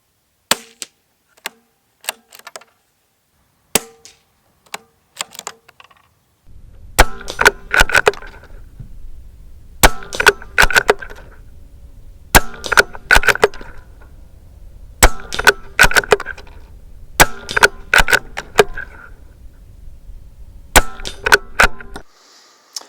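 A CZ 457 synthetic .22LR rifle with a 16-inch barrel is fired outdoors. A few sparse, sharp cracks come first, then a run of louder shots at fairly regular intervals over a low background rumble, with no talking.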